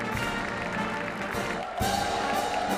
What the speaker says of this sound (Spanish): El presidente y vicepresidenta salientes recibidos con aplausos.